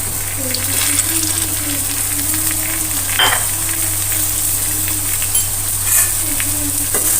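Raw mango pieces go into a frying gunda pickle mixture, giving a loud, steady sizzle with a few scraping stirs and light clinks over a constant low hum, close by.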